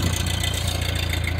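A Ford 8N tractor engine idles with a steady low, rhythmic chug, close and fairly loud, running alone for a brief moment.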